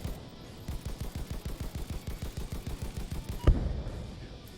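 Autocannon fire in Ace Combat 5, a steady rapid stream of thudding rounds for several seconds, ending in a louder impact blast, with no talk over it.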